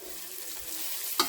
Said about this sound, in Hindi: बस 1 मिनट तक ही ऐसे फ्राई करेंगे